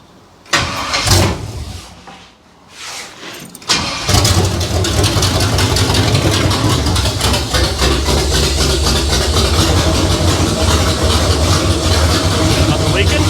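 A 1968 Camaro that had sat for years cranks and catches, then settles into a steady, loud idle with a rough rumble that runs alone for several seconds.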